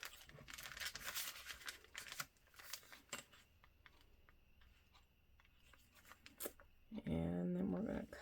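Scissors snip through a brown paper lunch bag, producing crisp crinkling cuts in an uneven rhythm, near and fairly quiet, with a short louder rustle toward the end.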